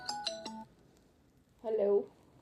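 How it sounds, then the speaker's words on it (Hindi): A mobile phone rings indoors in short melodic tone bursts, three quick notes followed by a pause and another burst, clear and fairly near with no talking over it. "मेरा फोन आ रहा है, मैं सुन लो।"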